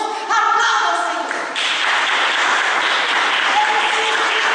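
A church congregation bursts into loud, sustained applause after a preacher's call to praise the Lord, a dense wash of clapping filling the space close by, with a few voices and music tones audible at the start.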